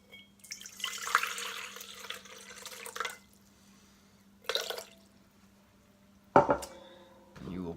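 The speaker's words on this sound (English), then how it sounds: "I'm going to start adding half your water to the bowl." Water poured into a mixing bowl while making pizza dough, a splashing stream in bursts over about three seconds, then brief pours and clinks, close and clear with no talking.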